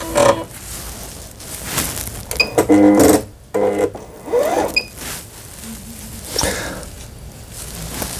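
A Lion E5100 household sewing machine, freshly repaired with its hook timing reset, runs in a few uneven bursts of mechanical whirring and clatter, close and moderately loud, with pauses between runs and no talking.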